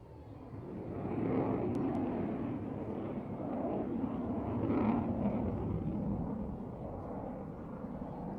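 A jet aircraft flies an inverted pass at the RAF Waddington airshow, a faint distant roar that rises, dips and swells again as it sweeps by, with no voices over it.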